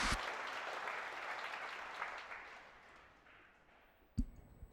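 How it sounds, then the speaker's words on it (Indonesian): Audience applause in a hall after a Buddhist dharma talk, a dense steady wash of clapping that slowly fades out, then a sharp tap or knock near the end. "Tepuk tangan untuk kita semua"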